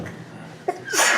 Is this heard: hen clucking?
no